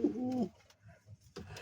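Deshi and Shiraz pigeons in a loft coo softly close by: one throaty, rolling coo opens, followed by a lull of faint rustling and a second coo near the end.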